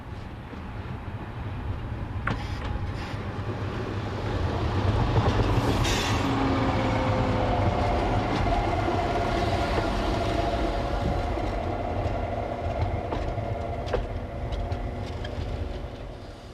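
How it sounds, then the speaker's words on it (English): Narrow gauge train 5090-015 pulls into an Austrian station on a service from Mank, with a steady, fairly loud rumble and wheel clatter that builds and holds close by, then eases slightly. No voices are heard. "Here 5090-015 arrives with a service from Mank."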